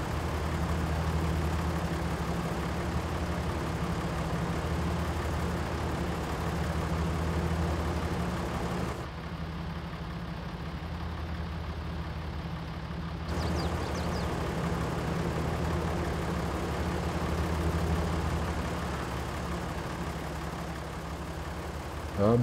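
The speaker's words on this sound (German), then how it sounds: "Dazu muss der Motor laufen." A tractor engine runs in Farming Simulator 22 at harvest, a steady, loud low drone that holds for the whole stretch with only a brief dip in its upper hiss midway.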